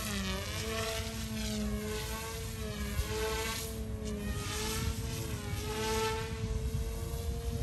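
An F180 ready-to-fly RC helicopter hovers and flies nearby, giving a steady, continuous rotor and motor whine with slight pitch shifts as it maneuvers, and no voices.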